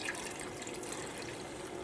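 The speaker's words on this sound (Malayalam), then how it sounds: "അപ്പോൾ ആ സെയിം ഗ്ലാസ്സിൽ തന്നെ 2 ഗ്ലാസ് വെള്ളം ചേർക്കുക" Water poured from a glass into a pan for making black rice-flour and jaggery halwa gives a soft, steady splashing trickle, close and continuous for a couple of seconds.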